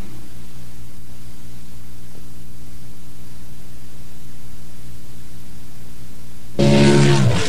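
A Skoal Bandit race car engine roars in suddenly and loudly near the end, a dense burst of sound after several seconds of quiet low hum.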